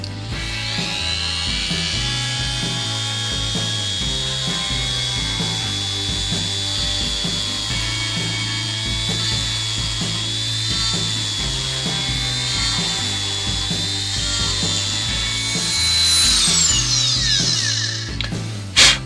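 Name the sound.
rotary grinding bit texturing a sapele wood bowl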